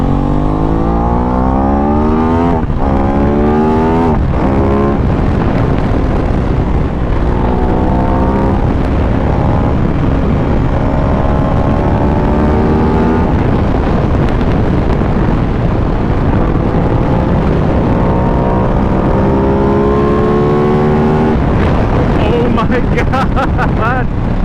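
An Aprilia RS 660 motorcycle is ridden hard, its engine climbing through the gears in repeated rising sweeps under heavy wind roar, with talk over the ride.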